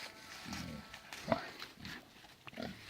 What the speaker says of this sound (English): The pigs are hanging out in the woods a lot.